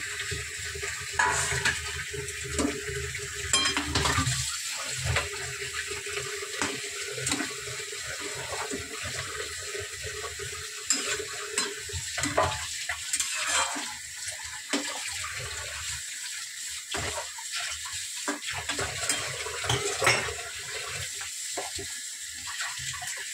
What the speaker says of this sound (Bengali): ঝোল কিন্তু বেশ ভালো করে ফুটে গেছে